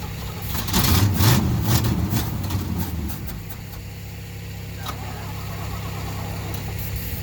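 Starter cranking the engine of a 1974 Chevrolet C10 pickup at a farm auction, a steady close mechanical churn that settles into a continuous low engine drone.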